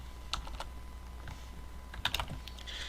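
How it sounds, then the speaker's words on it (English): Computer keyboard typing in sparse, quiet clusters of key clicks, a few taps early, then a quicker burst near the end, with no talking. "I'm going to type"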